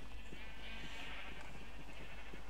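Sheep in the video game Minecraft bleating in short, repeated wavering calls over a steady low background hum, fairly faint, with no talking.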